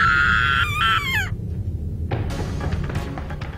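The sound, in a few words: girl screaming in the video game Corpse Party: Book of Shadows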